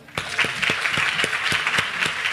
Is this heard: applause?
yes